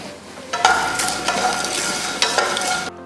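Peanuts and turmeric powder roasting in a tempering pan, a continuous close sizzle of frying with a spoon stirring and scraping against the pan in occasional sharper strokes.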